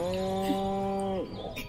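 A cow in the video game Destroy All Humans gives a single drawn-out moo, close and clear, fading at the end.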